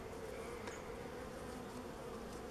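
Honeybees drone steadily around an open hive during a hive split, a soft, continuous close buzz with a faint low hum beneath.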